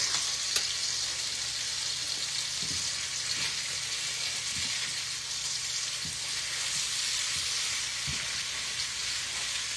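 Onions fry in olive oil in a pan for a home-cooked brunch, a steady close sizzle running the whole time with a few soft stirring scrapes and clicks, no talking.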